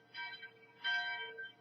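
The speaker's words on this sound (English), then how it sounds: "in the distance we hear a bell ringing" A bell rings in the distance with two soft, resonant strokes about half a second apart, each leaving a brief ringing tone that fades into quiet.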